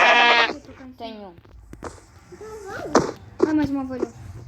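Sheep in the Craftsman video game bleat in several short wavering calls, close and fairly loud, interleaved with a voice talking nearby.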